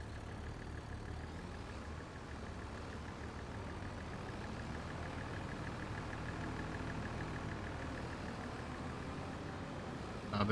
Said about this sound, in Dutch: De motor starten, dat is wel handig, hè.